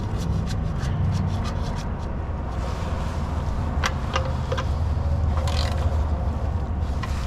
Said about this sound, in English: Now we're gonna put the pan bolt back in with our 19mm.